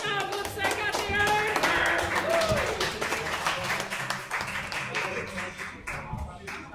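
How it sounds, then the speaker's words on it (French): Applause for a class group at a 2020-2021 graduation ceremony, dense steady clapping from a crowd filling the room, with voices and a bit of music mixed underneath, gradually thinning toward the end. "on donne une bonne main d'applaudissement au groupe 51"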